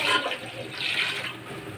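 Water is poured from a glass into soaked basmati rice in a pot, a short gushing splash that swells and then trails off, fairly quiet and alone.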